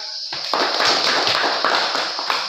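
A classroom group claps hands together, a dense, steady burst of many overlapping claps that starts abruptly and carries on loud and close, with no talk over it.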